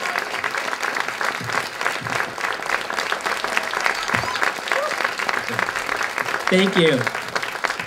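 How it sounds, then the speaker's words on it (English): Audience applause after a film screening in San Francisco, steady and dense throughout, with a voice speaking briefly over the clapping. "let's give a big round of applause to them"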